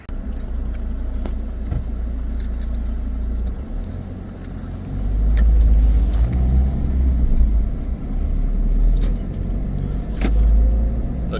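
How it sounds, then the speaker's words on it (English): A car driving through a burnt-out area of Silvermine near Cape Town, its engine and road rumble steady and close, swelling louder at moments, with light rattling and clinks inside the cabin. "Now we're going to just take another little drive and see what we can see."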